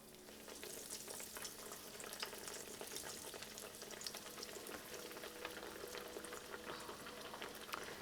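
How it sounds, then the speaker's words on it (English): Pork cutlets fry in hot oil with a constant, dense crackling sizzle and fine popping, close by and steady throughout, with no voices. "So we're going to start frying these babies up."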